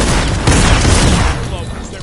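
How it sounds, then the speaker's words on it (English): Dense, sustained gunfire from a Fortnite match, loud and continuous with overlapping shots and booms running throughout. "they're putting the fire down towards them, and Scarlet is able to pick up Mitro"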